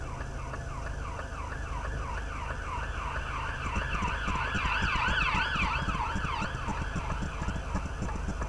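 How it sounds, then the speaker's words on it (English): Wailing ambulance sirens rise and fall continuously over a heavy road rumble, loud and near, as the ambulances pass; no one speaks. "you could hear sirens and then Yeah. fucking ambulances and shit all came past here"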